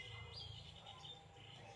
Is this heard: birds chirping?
yes